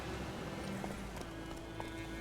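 Roach, Geralt's horse in The Witcher 3, comes galloping up, a steady clip-clop of hooves under a dense, loud wash of game ambience and music.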